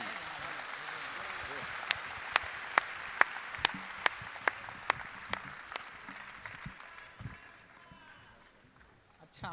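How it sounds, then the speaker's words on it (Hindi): Scattered audience clapping for a poet at a kavi sammelan, sharp rhythmic claps at about half-second intervals over a murmuring crowd, fading out toward the end with a voice beneath. "मैं चाहता हूं कि तालियों को भी शिखर में तब्दील कर दें।"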